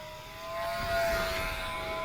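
A mini RC P-51 Mustang warbird airplane with a geared brushed motor at full throttle, giving a steady buzzing electric whine with a bright tonal pitch that swells slightly as it passes, moderately loud and alone.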